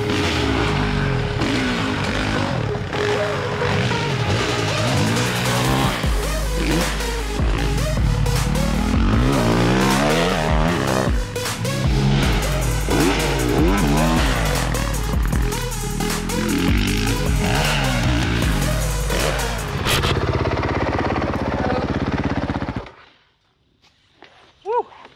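Honda motocross bike ridden on a dirt track, its engine revving hard and rising and falling loudly for about twenty seconds, then cutting off abruptly into near silence.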